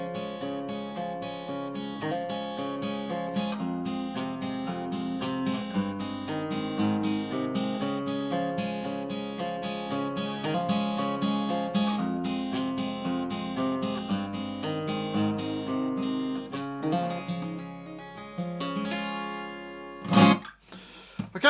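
Fingerpicked acoustic guitar plays a steady flow of plucked notes over bass lines, played close and clear, ending with a sharp strum-like burst.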